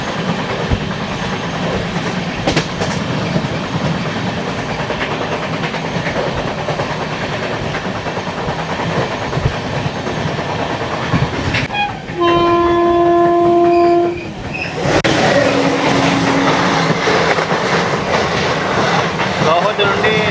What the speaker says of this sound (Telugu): గౌహతి నుండి యశ్వంతపూర్ వెళ్ళే స్పెషల్ ట్రైన్ ఇది 7 గంటలు లేటు.